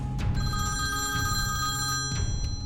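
A telephone rings in a house, a loud continuous electronic bell tone sounding close and alone across the whole span.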